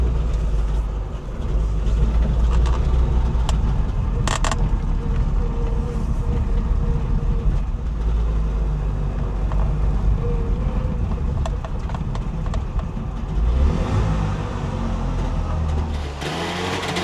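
A Trabant's small engine idles steadily and close up for the whole stretch, a constant low rumbling drone with no voices over it.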